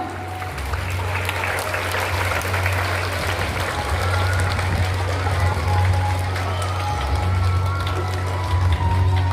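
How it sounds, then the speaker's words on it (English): Steady, loud applause fills a school investiture ceremony hall, a dense crowd clapping continuously without a break. "Clap for your Prime Minister."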